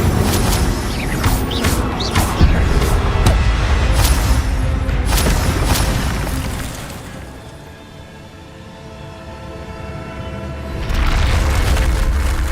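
A fire spell cast in Hogwarts Legacy erupts in loud, booming blasts with crackling bursts over a dense rumbling game soundscape, easing off briefly before swelling again near the end.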